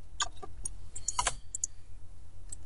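Computer keyboard typing a short chat command, a few quick close clicks of keys in an irregular burst followed by scattered single taps, with no talk over it.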